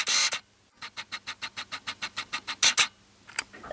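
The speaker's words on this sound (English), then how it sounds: "when I focus, the camera makes a sound like this" Camera autofocus motor whirring in a quick series of about a dozen short, evenly spaced buzzing pulses, with a couple of longer bursts before and after, close and fairly faint in a quiet room.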